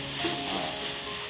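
Spices for chicken rendang fry in hot oil, giving a steady, close, even sizzle that holds without a break.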